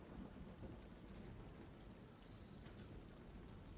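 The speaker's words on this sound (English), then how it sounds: "outside, you hear it start to rain, and every once in a while, starts to thunder." Steady rainfall with rumbling thunder in the background, quiet and distant, a continuous soft hiss of rain with low rolls of thunder and no voices.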